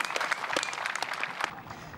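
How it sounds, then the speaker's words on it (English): Spectators at a disc golf national championship final round applaud a shot, with a dense patter of clapping close by that holds steady and thins out toward the end. "getting the applause even before it's down"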